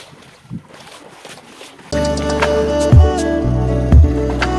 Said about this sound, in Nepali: फेरिबाट हामी नदी तर्न लागेको छौँ